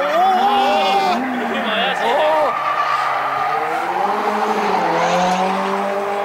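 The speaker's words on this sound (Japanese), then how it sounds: "タイヤ終わってますかねちょっとなんか高い音がするね" Race car tires squeal with rising and falling high-pitched tones over steady engine roar at Tsukuba Circuit, sounding worn and loud throughout, with commentators talking over it.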